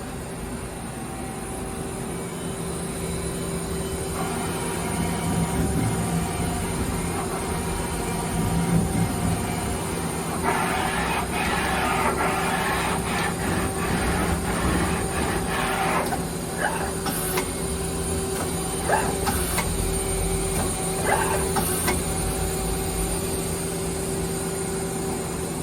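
A 2007 Mazak QTN-200MSY-II CNC lathe runs with steady tonal machine hums and whine, with bursts of cutting or tooling noise partway through, close and continuous.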